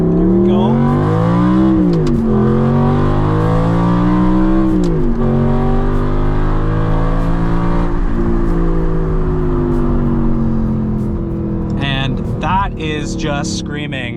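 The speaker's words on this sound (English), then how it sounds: "this V8 has a tune, stage 2 tune, and a custom exhaust" A tuned V8 with a stage 2 tune and custom exhaust, in a gated manual car, screams loudly as it accelerates, pitch sweeping up through gears with brief dips at the shifts, sustained and close.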